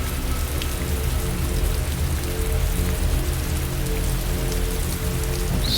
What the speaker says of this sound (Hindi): देखो इतनी तेज़ बारिश हो रही है